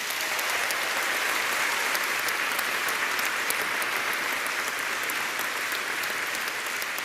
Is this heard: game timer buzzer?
no